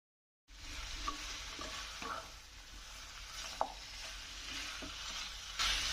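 Chicken curry pieces frying in coconut oil over a full flame are stirred in the pan, giving a steady sizzle with a few scraping knocks of the spoon and no talking.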